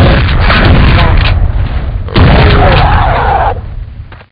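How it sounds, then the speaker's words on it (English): Two heavy shotgun blasts aimed at dinosaurs in Jurassic Park Trespasser, each a loud booming crack with a rumbling tail, the second coming roughly two seconds after the first. "Let's look at how effective the shotgun is against these guys."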